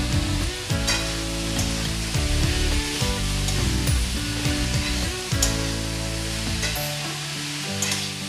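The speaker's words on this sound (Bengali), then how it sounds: "মাছের তেলটা আমি এখনই দিয়ে নেব এর সাথে" Hilsa fish oil sizzles loudly in a pan with ash gourd and spices while it is stirred, a continuous dense frying hiss with scraping over a steady background tone.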